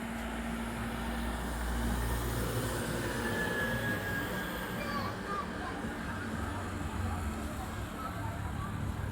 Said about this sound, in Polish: wieczorem kolejka też śmiga